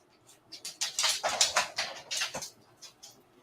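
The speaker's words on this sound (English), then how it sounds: "A dog just ran out of the room." A dog whimpers indoors in a rapid run of high, thin whines and yelps, loud and close, rising and falling for a few seconds before trailing off, with no talk.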